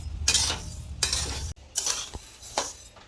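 Coriander seeds roasting over a low gas flame, turned with a spatula in a pan: a few scraping strokes with light clinks and rattling, close and fairly loud, no voices.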